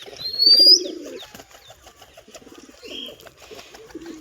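Domestic pigeons and their young coo in low, throaty bursts, several short phrases spaced across a quiet pen with faint higher chirps in between.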